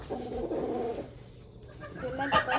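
Chickens being moved into a predator-proof coop give soft, short clucks and chirps at close range, with scattered scrabbling on linoleum beneath.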